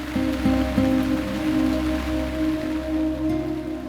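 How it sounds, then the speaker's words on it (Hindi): Rain falls steadily, a dense even patter across a surface with a low constant hum beneath, no voices. "बारिश शुरू हो गई"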